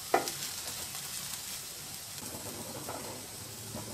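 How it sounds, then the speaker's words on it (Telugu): Bitter gourd pieces frying uncovered in a pan with oil, a soft steady sizzle and hiss broken by a sharp clink of stirring at the start and faint scraping stirs later. "మూత పెట్టకుండా కలుపుతూ వేయించుకోవాలి"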